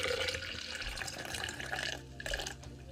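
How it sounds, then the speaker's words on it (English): Water pours steadily from a container into a pot, a continuous close splashing gush with small drips and no voices. "yeah, pour out water"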